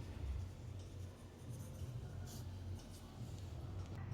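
Pen writing on a paper government form, soft close scratching in short strokes over low room hum, with no talking.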